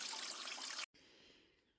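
Water trickling steadily from a spring along the Appalachian Trail, running like a faucet, a soft close hiss that cuts out briefly and then resumes a little quieter.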